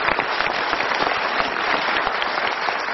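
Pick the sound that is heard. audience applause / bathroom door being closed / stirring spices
audience applause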